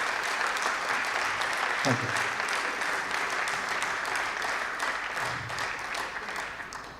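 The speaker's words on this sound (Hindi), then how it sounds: "आप सबसे अनुरोध है कि जोरदार तालियों से उनका स्वागत करें।" Sustained audience applause at a seminar welcoming a speaker, a dense steady patter of many hands filling the room, with a brief spoken thanks over it.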